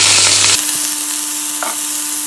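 Potatoes hit hot oil in a Bengali home kitchen and fry with a loud, dense, steady sizzle, broken by a couple of brief stirring scrapes close to the pan.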